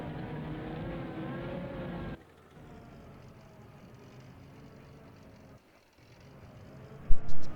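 A vehicle in Farming Simulator 22, limited to two gears because third gear is broken, drones with a steady engine hum that drops to a quieter rumble, then ends with a short loud thump.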